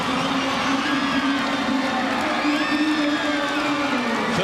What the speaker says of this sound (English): I think we'll let the crowd let you know how they feel about this one.